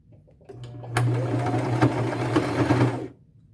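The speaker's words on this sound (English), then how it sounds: "I ended up using a regular stitch instead of a zigzag stitch on these" Sewing machine running a regular straight stitch on a denim belt bag, a steady close mechanical whir with a low hum that starts after a brief lead-in and runs for about two seconds before stopping.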